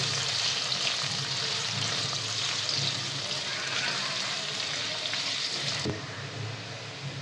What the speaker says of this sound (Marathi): कांदा आपण छानपैकी ना लालसर असा भाजून घेऊया